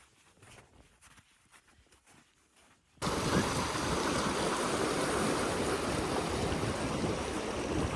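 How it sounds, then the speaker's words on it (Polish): A stream running beneath snow cover on the Kungsleden trail near Abisko in Swedish Lapland in June. A faint quiet opening gives way abruptly to loud, steady, close rushing water that continues to the end. "O, tam jest rzeczka"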